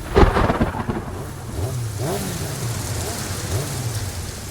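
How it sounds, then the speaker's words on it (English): Steady rain hisses over a broad wash of noise outdoors, with low rumbling and a passing engine-like drone beneath, at a moderately loud, constant level. "You might have gathered it started raining again"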